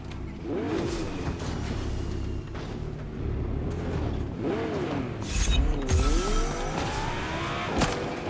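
Car driving in Fortnite, a steady engine drone with rising and falling pitch sweeps and occasional creaks and bumps, continuous and fairly close throughout.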